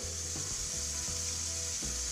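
Seasoned meat sizzles and fries in a hot skillet, a close, steady crackle with a few bumps and scrapes of the pan and no speech.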